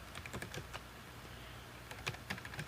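Quick, uneven keystrokes on a computer keyboard, entering a date into an accounting document: a close burst of clicks, a short pause, then another patter of taps, all alone without any voices.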